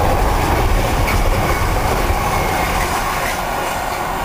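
Freightliner freight train rolling through Manningtree Station, a loud, close continuous rumble of heavy wagons with rhythmic wheel clatter and faint squeal over the rails, sustained without any speech.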